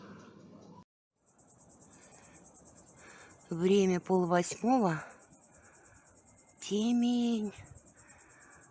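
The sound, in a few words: cicada singing outdoors at night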